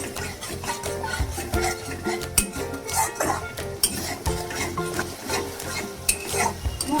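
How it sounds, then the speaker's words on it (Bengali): Spices being mixed with a little salt and Kashmiri chilli powder in oil for a tel koi fish curry, busy close scraping and clinking of a utensil against the pan over a steady sizzle. "মশলা আমি খুব ভালো করে মেশাতে থাকবো"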